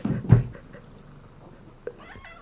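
A shy, semi-feral young house cat gives one short, close meow near the start, followed by quiet room tone and a faint higher chirp toward the end.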